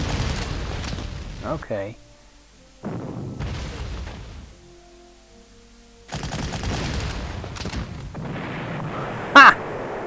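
In a WWII strategy game, gunfire and artillery fire come in bursts of crackling shots and booms separated by quiet gaps, with a voice speaking briefly.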